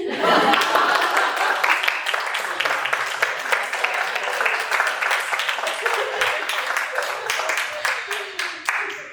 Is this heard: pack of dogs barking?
no